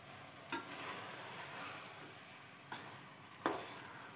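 A spoon stirring keema with tomatoes and green chilies in a pot, giving a soft sizzle with a few sharp scrapes or clanks against the pot, fairly quiet and without talk.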